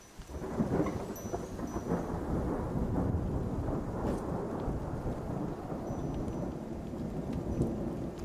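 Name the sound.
rain and thunderstorm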